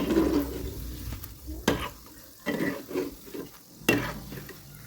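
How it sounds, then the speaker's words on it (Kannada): Vadas for street-style vada pav frying in hot oil and being flipped, a steady sizzle broken by several loud sharp bursts and scraping stirs, with no talk. "ಒಂದು ಸೈಡ್ ಚೆನ್ನಾಗಿ ಫ್ರೈ ಮಾಡ್ಕೊಂಡು ಆದಮೇಲೆ ತಿರುಗಿಸ್ಕೊಂಡು ಹಾಕ್ಕೋಬೇಕು"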